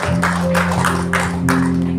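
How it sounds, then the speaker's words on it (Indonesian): A church congregation claps during a Sunday worship service, sounding as a few rhythmic bursts of hand claps over a sustained keyboard drone. "Sekali lagi tepuk tangan buat Tuhan Yesus"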